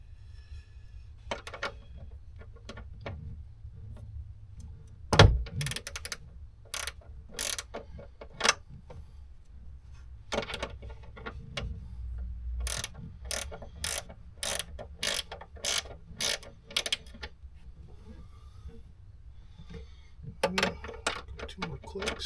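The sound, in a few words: ratchet loosening a bolt with a 10 mm socket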